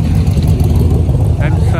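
A Corvette engine idling close by at an outdoor car show, a steady low rumble under crowd talk.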